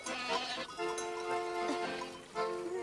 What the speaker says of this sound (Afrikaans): En daar oorkant is so waar bokke.